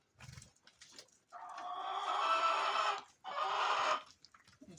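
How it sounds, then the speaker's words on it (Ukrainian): Chickens cluck and squawk nearby in two long, loud bursts, with softer scattered clucks before and after. "Тут кури кричать рядом, треба кури годувати"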